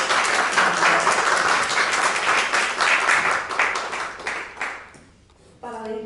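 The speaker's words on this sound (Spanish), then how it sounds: "Pido un aplauso a vuestro esfuerzo" Audience at a literature round table on women writers of Spain and the Americas breaks into warm, loud applause, many hands clapping steadily before fading out, then a voice begins speaking.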